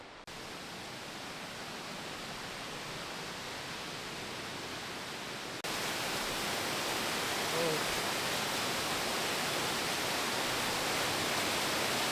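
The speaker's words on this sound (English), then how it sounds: "So there's a really good sized waterfall just right there, maybe 20 feet, 25 feet tall." Roar of a waterfall roughly 20 to 25 feet tall at the Indian Bathtubs, a steady broadband wash of falling water that swells louder partway through and continues unbroken.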